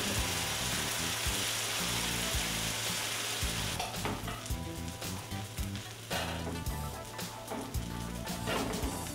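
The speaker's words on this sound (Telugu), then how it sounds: "ఈ మిశ్రమాన్ని పెనం మీద కొద్దిగా ఆయిల్ వేసాము. అది బాగా వేడయ్యాక ఇలా వేసుకొని కలుపుకుంటే సరిపోతుంది." Rava uttapam batter spread on a hot oiled griddle pan sizzles loudly and continuously, with stirring and scraping sounds joining midway.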